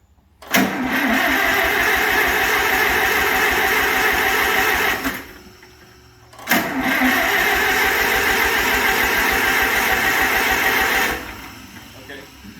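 Farmall Super M tractor engine cranking over without firing, two long bursts of steady whirring starter churn separated by a short pause, loud and close.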